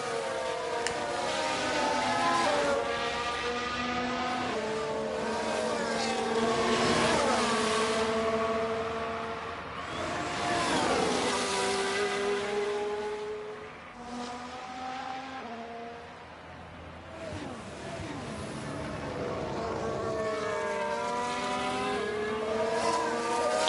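Formula 1 race cars in the F1 Manager 23 racing game, with steady, loud engine whine that sweeps up and down in pitch as the cars pass and shift, continuous throughout with no talking.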